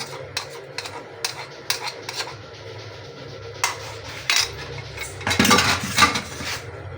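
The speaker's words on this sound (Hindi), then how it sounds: "अब मज़ीद चम्मच चलाते जाएंगे क्योंकि नीचे ना लगे" Spoon scraping and clinking against a cooking pot as milk thickens for khoya malai kulfi, an irregular run of close metallic knocks and scrapes that grows busier and louder toward the end.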